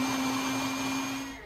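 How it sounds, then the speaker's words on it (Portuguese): Kitchen blender pureeing green corn kernels with other ingredients for corn porridge, a steady loud motor whine with a constant hum that fades slightly at the end, with no voices. "Junte os grãos das espigas no liquidificador com os outros ingredientes, menos a canela. Bata até formar um creme."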